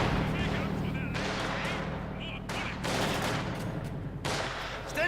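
Battle sounds from the video game Company of Heroes 2, with dense rattling submachine gun fire and heavy explosions forming a loud, continuous barrage throughout.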